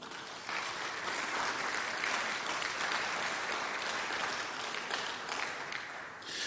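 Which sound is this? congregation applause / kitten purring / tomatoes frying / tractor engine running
congregation applause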